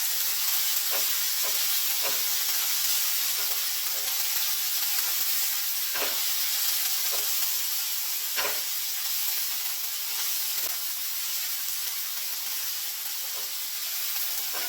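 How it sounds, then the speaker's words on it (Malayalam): Large-cut chopped tomato roasts in a hot pan for a masala chicken curry, giving a steady close sizzle and hiss with occasional clicks of stirring, no voices. "ഇനി ഏറ്റവും അവസാനം ഇതിലേക്ക് ഒരു തക്കാളി വലുതായി അരിഞ്ഞതും കൂടി ചേർത്ത് കൊടുക്കുന്നുണ്ട്. ഇത് 1 മിനിറ്റോളം ഒന്ന് റോസ്റ്റ് ചെയ്യുന്നുണ്ട്."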